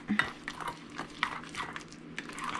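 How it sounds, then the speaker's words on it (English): Tomato pie ingredients being mixed in a bowl, with repeated scraping, stirring and light clinks of a utensil against the dish, close and fairly steady, no talking. "You're gonna mix this up."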